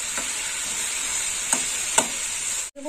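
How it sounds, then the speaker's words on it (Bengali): Tomatoes fry in hot oil with turmeric in a pan for a fish curry, giving a constant loud hiss and sizzle, with a couple of brief stirring scrapes near the end. "ভালো করে টমেটোগুলো ভাজা হয়ে যাবে।"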